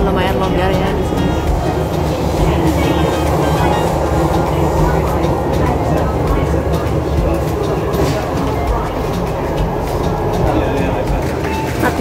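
An MTR train in Hong Kong at Admiralty station gives a loud, continuous rumble of rolling rail cars with rhythmic clatter, heard up close from the platform or carriage, with a voice talking over it.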